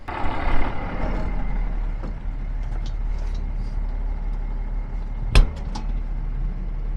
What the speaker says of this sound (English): I just finished emptying the semi.